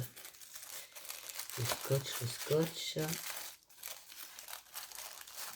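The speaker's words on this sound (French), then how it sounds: "On fait déchirer mon papier de soie qui peut être utile." Tissue paper crinkles and tears in short bursts alongside a few vocal sounds, close by and fairly soft, with rustling continuing afterward.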